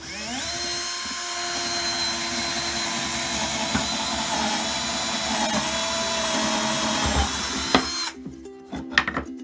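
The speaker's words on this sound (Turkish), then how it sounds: "Matkapı da böyle biraz şey tutacaksınız eğimle" A power drill held at an angle runs continuously into a wall at a high, steady whine, then cuts off near the end, followed by a few knocks and rattles.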